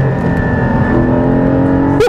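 A second-generation Porsche GT4 accelerating hard, its engine a loud, steady, tonal drone that rises briefly near the end, heard alone without talk.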